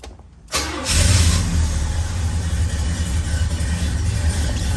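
A 1969 Oldsmobile Cutlass V8 started by push button cranks briefly after a quiet moment and catches with a sudden loud roar, then settles into a strong, steady, close-up idle.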